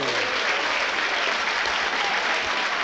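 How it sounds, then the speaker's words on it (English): Football crowd at a non-league match between Harriers and Chester breaks into steady applause, a continuous wash of clapping from the stands, loud and unbroken throughout, with no commentary over it. "that's applause ringing"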